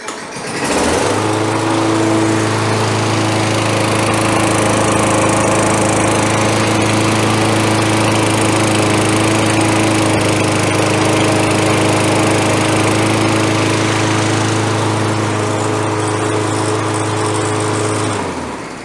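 A Toro Recycler model 20016 walk-behind lawn mower engine roars loud and steady at close range for nearly twenty seconds, a constant droning hum starting abruptly and cutting off at the end.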